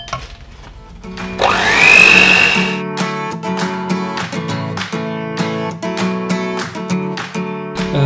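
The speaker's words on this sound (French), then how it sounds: "Et moi je vais battre les blancs en neige tout de suite." An electric mixer beating egg whites to stiff peaks for a no-bake chocolate mousse tart, its motor whirring up in pitch and then running steadily and loudly, with music playing alongside.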